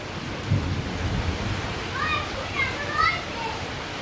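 Steady rain hisses down during a thunderstorm, with low rumbles of thunder underneath and occasional children's voices and speech over the downpour.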